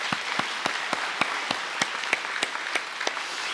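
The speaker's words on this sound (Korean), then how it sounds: "우리 힘내라고 우리 경리 박수 한번 해주시기 바랍니다" A church congregation at a Sunday worship service claps steadily in a fairly even rhythm, with individual claps distinct against a soft roomy background.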